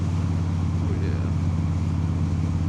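A 2007 Harley-Davidson Softail Deuce with a six-speed transmission gives off a continuous deep, throbbing engine rumble at close range, steady and loud throughout.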